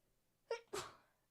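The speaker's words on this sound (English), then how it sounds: "I felt that sneeze coming on from a mile off" A single sneeze, a quick sharp intake followed by a loud explosive burst, close and clear in a quiet room.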